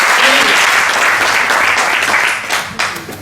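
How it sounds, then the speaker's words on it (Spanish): Loud applause from an audience at a book presentation in Tocina, greeting author María Vargas, a dense burst of clapping that carries on steadily and begins to taper in the final second. "os pido un fuerte aplauso para María Vargas"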